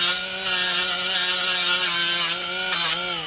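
High-speed rotary tool fitted with roll lock abrasive pads scrubbing metal, a continuous close whine with a steady pitched drone and rough grinding texture that rises and falls slightly as the pad bites.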